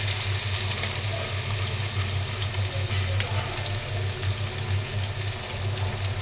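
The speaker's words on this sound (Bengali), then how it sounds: "পেঁয়াজটা একটু ভাজা হবে।" Chopped onion frying in hot oil with a little whole garam masala while cooking khichuri, a steady close sizzle with faint stirring throughout, no talk.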